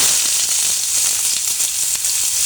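Dried chillies and onion frying in mustard oil in a wok, a close, steady hissing sizzle with scattered soft crackles, no voices.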